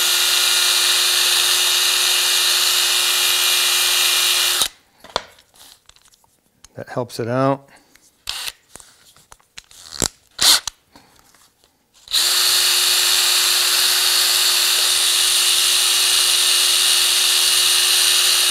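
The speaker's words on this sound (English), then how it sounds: "Put it in the drill." A power drill spins a wooden dowel for short bursts, whirring and rasping between pauses, set between stretches of loud steady background hum, with someone speaking briefly.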